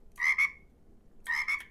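A frog keyboard fidget toy croaks twice, each croak a close, clear pair of quick ribbits separated by about a second of quiet.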